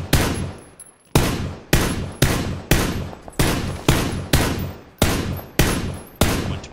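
Gunfire in a first-person shooter video game: loud single shots fired at a steady pace, roughly two per second, each with a sharp crack and a ringing decay. No talk.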